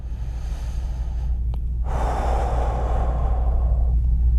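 Deep breathing during a seated sit-and-reach yoga stretch: a quick sharp intake, then one long, close, audible exhale that lasts almost two seconds before fading out.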